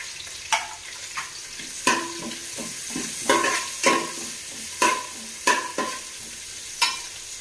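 Sliced onion and two green chilies frying in a pan for chicken pulao, a steady sizzle broken by repeated scraping stirs of a spatula at a roughly regular rhythm, close and moderately loud, with no talking.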